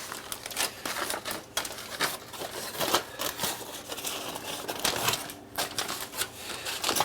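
Aluminium foil crinkling and crumpling after bending acoustic guitar sides, a close, busy stream of crackling and rustling bursts with no talk.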